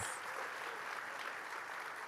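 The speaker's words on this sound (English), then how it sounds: "Let's give a round of applause for our sponsors." A conference mainstage crowd applauds sponsors, a steady, even wash of clapping heard from a distance throughout.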